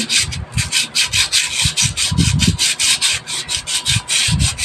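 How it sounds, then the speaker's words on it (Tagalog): Steady rhythmic rasping of sandpaper rubbing back and forth on a hard coconut shell, close and loud, repeated quick strokes with no talking. "ito meron ako liha at ating lilihain"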